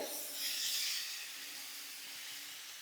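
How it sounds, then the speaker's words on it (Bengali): Potatoes frying in hot oil give a soft, steady sizzling hiss that swells slightly early on and then holds, fairly quiet and close with no talk over it. "দেখো, আলুগুলোকে আমি ভাজছি"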